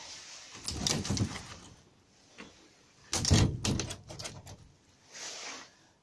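A greenhouse door is pushed open and shut, giving two bursts of rattling, scraping bangs with a quieter clatter between and a softer rustle at the end, fairly close.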